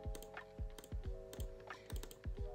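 A computer keyboard and mouse are used during gaming, giving quick irregular clicks and key taps that are soft and close, over a faint steady hum, with no talking.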